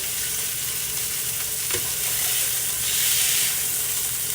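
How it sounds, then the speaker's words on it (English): Pork chops sizzle loudly and steadily in a hot pan, with a continuous hiss and a brief faint clink partway through. "we are in my second batch of frying my pork"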